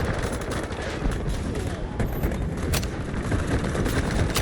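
Dense gunfire in the video game Delta Force: constant overlapping shots and automatic bursts, loud and close over a busy battle din, with voices faintly underneath.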